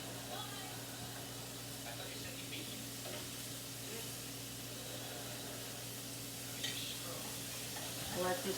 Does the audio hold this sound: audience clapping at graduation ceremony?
no